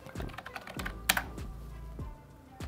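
Keys clatter on a computer keyboard in a quiet room, a steady run of uneven clicks with a few sharper strikes and no voices.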